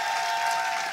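Audience applause on a Ukrainian TV singing show pits stars of X-Factor against Voice of the Country, a steady wash of clapping from a studio crowd, moderately loud and without a break for about a second.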